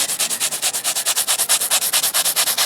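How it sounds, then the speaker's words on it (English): An old piece of sandpaper rubs steadily over a food surface in a home kitchen, giving a close, even rasp of rapid back-and-forth strokes, about ten per second, with no talking. "And then I have this old piece of sandpaper"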